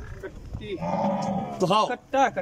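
A Nili buffalo, one of several offered for sale on a Punjab farm in Pakistan, gives a long, deep, resonant moo up close, followed by two shorter, rising calls.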